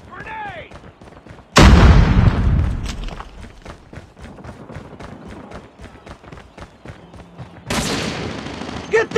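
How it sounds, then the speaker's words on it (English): A grenade detonates with a loud close boom in Call of Duty Mobile, followed by rapid gunfire rattling and another blast near the end, with game voices calling out over the action. "Watch out, grenade!"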